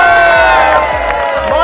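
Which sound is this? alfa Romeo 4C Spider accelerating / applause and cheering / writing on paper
applause and cheering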